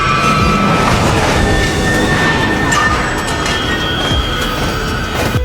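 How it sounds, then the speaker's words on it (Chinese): A film scene of a train bearing down on a car stalled on the tracks: loud, continuous rumble and clatter of rail wheels with metallic squeals and a heavy thud partway through. "可火车也到了。"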